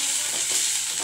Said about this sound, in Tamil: வெந்தயம், வெங்காயம், பச்சை மிளகாய், கருவேப்பிலை போட்டு தாளிச்சு